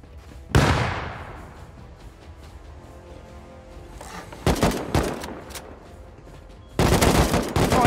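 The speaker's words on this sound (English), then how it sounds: "Throwing grenades on me." Grenade blasts and gunfire in the survival game Rust: a loud explosion decays slowly, then several sharp shots burst in quick succession, followed by a heavier dense burst of gunfire at the end.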